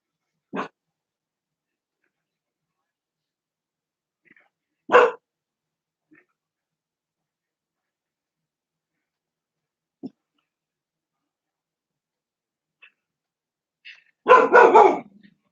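A dog barks in scattered single yips separated by long silences, ending with a short burst of louder barking, fairly close.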